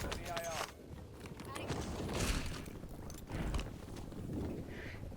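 Player footsteps in the battle-royale shooter Warzone, a quick run of soft, close steps mixed with faint distant gunfire and game ambience.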